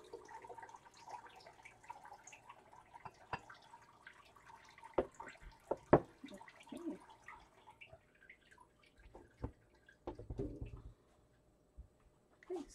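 Filtered water pours into a container in a home kitchen while making soy bean tofu, heard as quiet, irregular splashes and drips with a few sharper clinks against the vessel.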